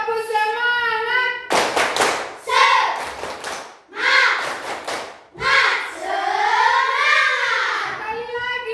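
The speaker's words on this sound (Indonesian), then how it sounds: "Tepuk semangat." A classroom of students doing a rhythmic group clapping ice-breaker chant, sharp bursts of unison claps alternating with voices chanting loudly together, close and energetic.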